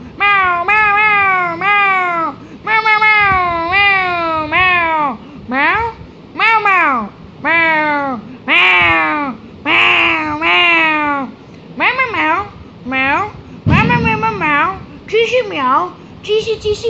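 A human voice imitates a cat, giving a long run of loud, drawn-out meows one after another with short gaps between them.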